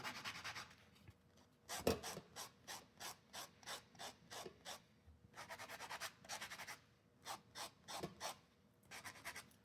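Handheld sander smoothing the back of a bar necklace in a jewelry workshop, heard as a rapid series of short, scratchy rubbing strokes in regular bursts with brief pauses between runs, fairly close and moderately loud.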